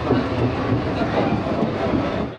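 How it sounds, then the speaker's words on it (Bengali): An AC local train running from Ranaghat toward Sealdah makes a loud, steady rumble from inside the carriage, with a faint clickety-clack rhythm of wheels on rail and no talk. "তো চাকদা রেলওয়ে স্টেশন থেকে কিন্তু আমাদের ট্রেন ছেড়ে দিল"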